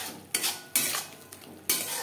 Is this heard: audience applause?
no